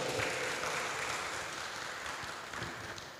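A group at a youth public-speaking event on anti-corruption and the environment gives brief applause, a fairly muffled spread of clapping with some low thumps, fading slightly over about three seconds.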